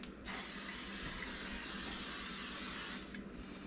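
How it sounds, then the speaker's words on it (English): A steady, broad hiss of aerosol vegetable oil cooking spray on hollowed potato skins runs for about three seconds, close and even, with quieter room background before and after. "we're going to spray with vegetable spray."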